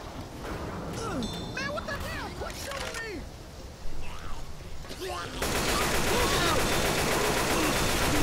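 Rapid bursts of automatic gunfire from a zombie shooter game, steady and dense, with chirping electronic effects and a person talking over the first half before the shooting grows louder and continuous.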